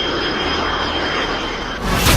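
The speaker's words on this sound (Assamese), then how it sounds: "পাকিস্তানৰ সীমা উলংঘা কৰি ভাৰতত প্ৰৱেশ তিনিখন F-16 পাক যুদ্ধ বিমান" A Pakistani F-16 fighter jet flies overhead with a continuous, dense engine roar that holds steady, then grows louder and brighter near the end as the jet passes close.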